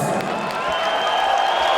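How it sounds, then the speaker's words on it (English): Arena crowd at an M-1 Challenge fight between Russia and Germany, cheering loudly for a Russian fighter: a dense, sustained roar of many voices, steady and enveloping throughout. "The Russian crowd going crazy for Grabovich"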